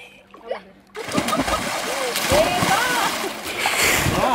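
A person jumping into deep water makes a splash, followed by sloshing and churning water close by, with voices talking over it.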